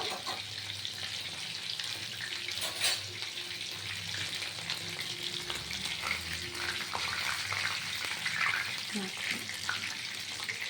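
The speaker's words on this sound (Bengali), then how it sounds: "ঠিক এরকম করে উল্টে পাল্টে ভাজাগুলো ভাজবেন দেখুন হয়ে এসছে" Pieces of chilli chicken fry in a pan with an even, steady sizzle that carries through the whole stretch, joined by occasional stirring clatter and some quiet talking.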